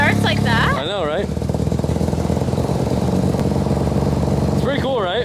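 An old project car engine cranks briefly and catches, then settles into a loud, steady, close idle with a rapid pulsing beat; people talk over the start and again near the end.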